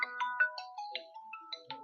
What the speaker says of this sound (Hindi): पटना से फोन है।